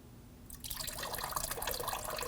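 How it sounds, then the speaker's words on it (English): Subaru XV Crosstrek coolant starts pouring from a disconnected radiator hose after half a second of quiet, becoming a steady close splashing trickle of liquid into a catch container. "Some coolant will come out of the hose"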